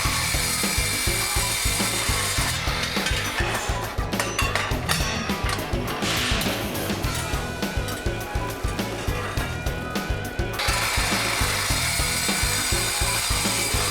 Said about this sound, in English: So then I get busy cutting 1-inch tubing to make the initial frame.